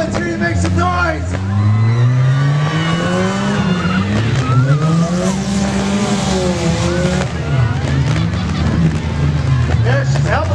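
Demolition derby car engines roar and rev with squealing tires, heavy and close, while an announcer's voice talks over the noise at a county fair.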